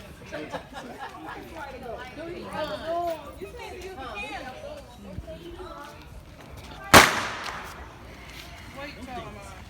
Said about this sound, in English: Yeah, these are firecrackers.